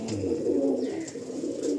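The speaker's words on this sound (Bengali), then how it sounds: "কত সুন্দর পায়রা" A pair of Andhra-breed pigeons, male and female, coo in a close, steady throaty rumble that continues without pause, with no voices over it.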